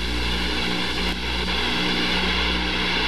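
F/A-18C jet engines drone in a loud, steady, unbroken roar on a night landing approach to the aircraft carrier USS Constellation.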